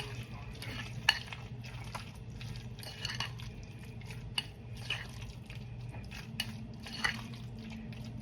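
A utensil scrapes and clinks around a bowl while pea salad is stirred, a soft, steady scraping with small irregular taps, close and fairly quiet, with no talk over it.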